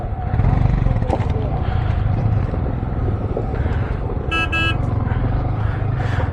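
An off-road vehicle drives through a river crossing on a Chennai to Leh-Ladakh road trip near Hunder and Pangong Lake, its engine a loud continuous rumble with water wash, a short horn toot and faint voices.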